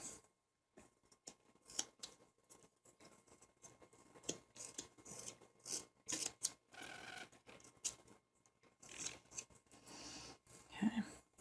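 A knife cuts and carves wood for a small sitting beggar pup figure, giving quiet, scattered scraping clicks and short cuts at close range, with no talk over them.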